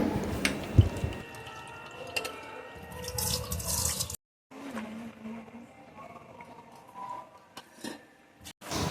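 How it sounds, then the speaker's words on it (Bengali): Vegetables rinsed under a running kitchen tap while cooking dal, with steady water splashing and dripping for about four seconds, a brief pause, then quieter trickling and handling sounds at close range. "এখন সব সবজিগুলো ভালোভাবে ধুয়ে পরিষ্কার করে নিচ্ছি"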